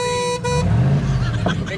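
Car horn honking: a brief loud steady toot at close range, cut short, followed by engine rumble and a voice talking over it.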